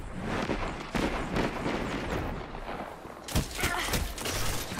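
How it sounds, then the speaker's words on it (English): Dense, rumbling bursts of gunfire and delayed explosions from True Prophecy rounds in a shooter video game, with continuous overlapping blasts and a sharper flurry of impacts near the end. "That's the one that has the delayed explosion when you get hit."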